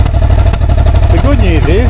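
A Suzuki SV650 first-generation motorcycle engine runs with a misfire, a loud close low throb with uneven pulses, while a voice speaks over the top.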